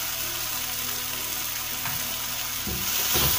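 Brinjal curry ingredients with salt sauté in a pan, a short, even, close sizzle ending in a couple of dull stirring knocks.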